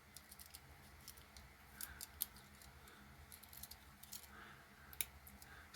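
Small scissors snip in quick, irregular crisp clicks, close and faint, with a few brighter cuts standing out against quiet background.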